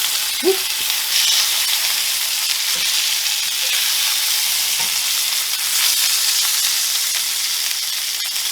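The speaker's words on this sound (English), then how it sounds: "Alright, now you can see this stuff sizzling away." Steady, loud sizzling of bone-in pork chops frying in a hot cast iron pan, a continuous crackling hiss with a few faint knocks underneath.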